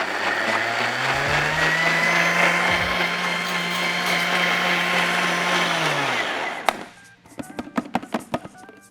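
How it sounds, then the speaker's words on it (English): A blender whirs loudly and steadily while blending tomato and capsicum gazpacho, its motor pitch dropping as it winds down, followed by several clinks and knocks. "And now we're going to re-blend it."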